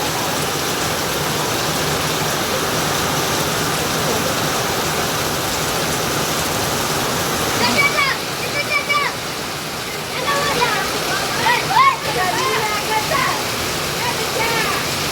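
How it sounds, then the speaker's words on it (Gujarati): Heavy rain pours down in a village, a steady broadband hiss that runs loud and unbroken throughout, with a few short bursts of people talking over it in the middle. "વરસાદ મજબૂત પડી ગયો"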